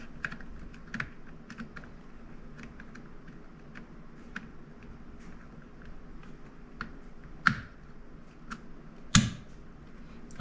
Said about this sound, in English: It's plugged in. You hear it clipped in.